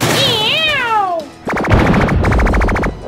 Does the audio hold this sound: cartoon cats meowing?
yes